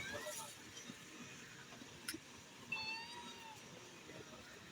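A cat meows a few times, thin and fairly faint, in a quiet outdoor setting with low background noise and some nearby talk around it.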